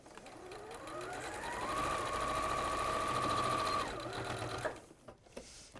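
A sewing machine stitches a bag lined with Bosal foam in one long, steady run that holds loud and even for several seconds, then slows and stops, leaving a quieter tail.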